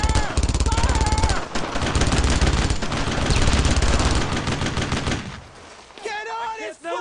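Heavy rapid gunfire from Brothers in Arms: Road to Hill 30 rattles loud and continuous for five seconds, then drops away as shouting voices take over near the end.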